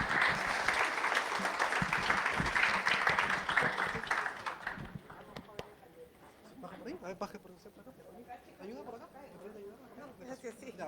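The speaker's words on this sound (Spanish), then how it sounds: "Un fuerte aplauso para ellas," Strong audience applause for the women panelists at a closing event on violence against women, loud and dense at first, then thinning into scattered claps as voices and chatter rise in the room.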